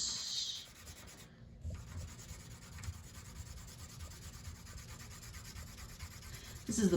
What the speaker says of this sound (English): This one's got kind of a lot of stuff to trace, so it's going to be a lot of pencil.